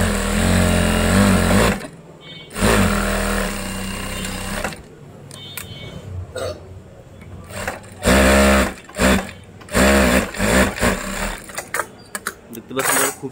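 An industrial sewing machine stitching jeans fabric, loud and close, in a long whirring run followed by a series of shorter start-stop bursts, with voices talking in between.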